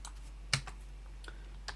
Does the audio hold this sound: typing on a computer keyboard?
yes